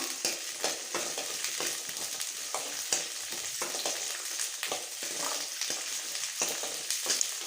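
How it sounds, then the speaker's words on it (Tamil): Onion and garlic sauté in a hot pan for a chutney, giving a steady close sizzle and crackle, with frequent scraping stirs throughout. "அதுக்கப்புறமா பூண்டு சேர்த்துக்கோங்க அதுக்கப்புறமா ரெண்டும் நல்லா வதங்கணும்"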